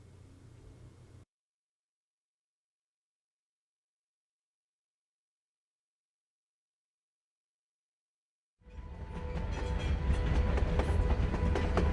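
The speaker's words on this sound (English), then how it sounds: "Je crois qu'ils ont un problème avec les trains dans ce jeu." In the video game Life Is Strange Before the Storm, a long silence gives way to a train suddenly roaring past, a loud, close, sustained rumble with rattling clatter.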